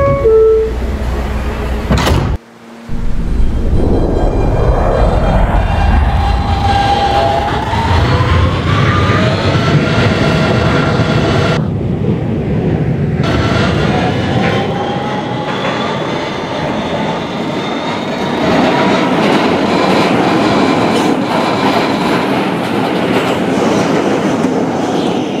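A Roblox R160B Siemens subway train on the BMT Broadway Line rumbles along steadily with rhythmic rail clatter and a rising motor whine, a brief dropout near the start, continuous and loud throughout.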